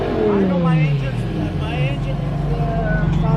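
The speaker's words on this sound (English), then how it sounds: "Akko, rev it." A BMW M4 GTS engine revs loud and close at an exotic car meet, a low droning roar that sweeps down in pitch, with people talking over it.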